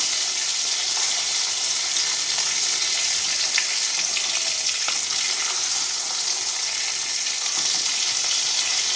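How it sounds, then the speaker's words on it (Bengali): Spice-coated hilsa fish pieces frying in oil over a low flame, giving a steady, loud, close hiss with scattered crackles and pops throughout and no voices. "ইলিশ মাছ ভাজা হতে একদমই বেশি সময় লাগে না।"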